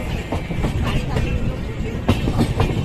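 A passenger train on the Vizag to Eluru run moving along the rails. There is a steady, close rumble with rhythmic wheel clicks and clacks throughout.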